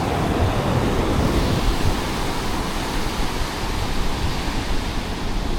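Ocean waves at Morro Bay, small surf near the pier and rocks, heard as a steady, continuous broadband wash of breaking water and foam, moderately loud with no speech.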